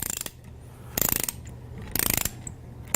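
A ratchet wrench tightens an aluminum groove clamp in three quick bursts of sharp clicking, close and crisp, with brief pauses between strokes and no talk.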